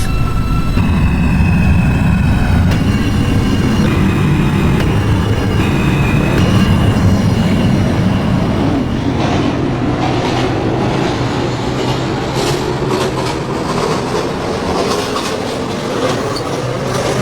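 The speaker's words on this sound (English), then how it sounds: "This is a Sunset Mall westbound 2 train." Greater Figglehorn Metro westbound 2 train running on the rails between stations, a loud continuous rolling rumble with rail clatter and a rising squeal of wheels, heard close from inside the car with no talk.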